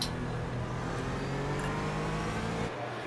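A Porsche Cayman's engine drones from the onboard view in iRacing at Daytona, a steady loud hum that holds its pitch before dropping off briefly near the end.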